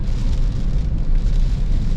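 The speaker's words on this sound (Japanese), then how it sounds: "雨も強くなってきてるしね。" Heavy rain ahead of a typhoon landfall in Nago, Okinawa, makes a loud, dense, unbroken roar throughout, with no talking.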